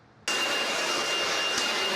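A sudden loud rush of compressed air starts and holds steady as dust is blown out of the bare interior of a Ford Transit van, a continuous close hiss with no voices.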